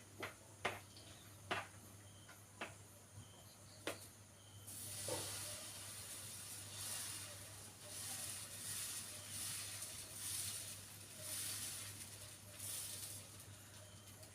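Dosa batter poured onto a heated pan bursts into a loud, steady sizzle after a few sharp clicks and taps, the hiss holding on close and unbroken for the rest of the clip.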